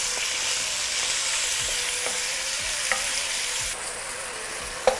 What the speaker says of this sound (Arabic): راح نحرك إلى أن كل قطع اللحم راح يتحول لونها إلى لون بني.